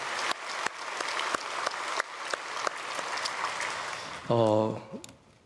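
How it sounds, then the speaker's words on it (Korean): Church congregation applauding at a Sunday worship service after a choir's anthem, a steady dense clatter of many hands with sharp claps standing out, ending as a voice begins speaking over the fading applause. "우리 박수로 크게 축복하겠습니다."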